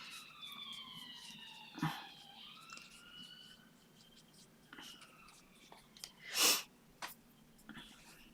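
Faint wailing sirens on a nearby road rise and fall in the distance, with soft whispery sounds and a sharp burst partway through.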